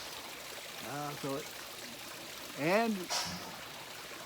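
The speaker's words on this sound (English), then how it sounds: "The waterfall here is cleaned out and working fine." A small garden waterfall runs as a steady, soft trickling wash in the background while someone talks briefly over it.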